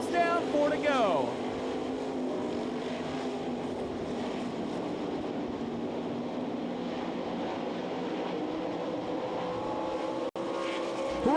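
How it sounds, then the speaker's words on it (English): Sprint cars in a 360 heat race at the Knoxville Nationals on a dirt oval, engines roaring steadily through the turns with a public-address announcer talking over the track noise. "Side by side, they race through turns 1 and 2."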